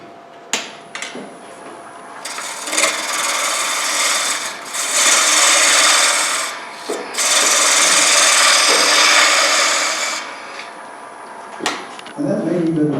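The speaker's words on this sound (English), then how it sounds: "This is a nice sharp bowl gouge, quarter-inch bowl gouge." A sharp quarter-inch bowl gouge cuts wood on a lathe while shaping a natural-edge square bowl, giving loud steady rasping stretches broken by short pauses and a few sharp knocks near the start and end.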